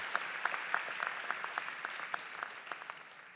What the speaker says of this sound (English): I ask our graduates to give their family and friends a warm round of applause.